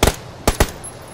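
Sharp gunshots crack out in a video game as players fire at a Jeep: a quick double shot, a short pause, then two more close, loud bursts.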